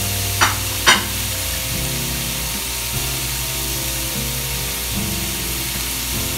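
Home-grown garden squash sizzles steadily in a hot pan, with a couple of sharp clatters near the start, close and continuous without talk.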